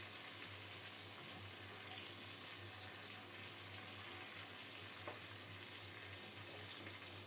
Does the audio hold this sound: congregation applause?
no